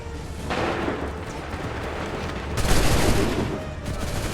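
Musket volleys in the Assassin's Creed III video game: a sharp crackling burst of massed gunfire, then a second louder volley, with battlefield rumble underneath.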